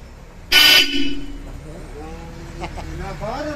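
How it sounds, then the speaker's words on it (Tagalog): A Nissan Navara pickup's Bosch Europa horn honks once, short and loud at close range, followed by quieter background sounds and faint voices. "pwede ka nang bumusina ngayon."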